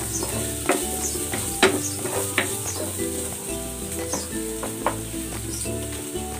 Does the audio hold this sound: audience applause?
no